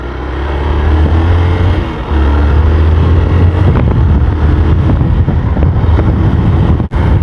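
Motorcycle with a stock exhaust riding along a rough, broken road, a steady low engine drone mixed with heavy wind buffeting on the microphone, loud and continuous throughout.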